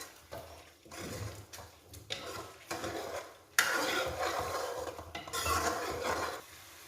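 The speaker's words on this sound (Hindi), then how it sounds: "इसको अच्छे से हम मिक्स कर लेंगे" Turmeric and garam masala are stirred for kaleji masala in a pan, giving soft, faint scraping and light sizzling with occasional utensil clinks, getting a bit louder midway, and no talk.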